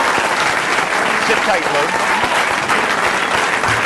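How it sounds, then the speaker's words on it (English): A studio audience at a cable comedy show breaks into loud, dense applause for comedian Louis C.K., with a voice speaking briefly over the clapping. "Nice round of applause, Mr. Louis C.K."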